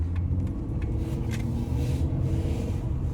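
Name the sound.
car driving on a test drive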